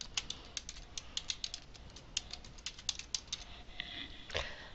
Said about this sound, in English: then I'm going to type the information that I want to appear in